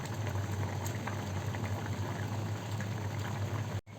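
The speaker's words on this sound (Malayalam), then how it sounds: "ഇപ്പോൾ മീൻകറി നന്നായി തിളച്ചിട്ടുണ്ട്" A pot of fish curry bubbles on the stove, a steady dense simmering hiss with tiny pops running evenly throughout, close and continuous, with a brief cut near the end.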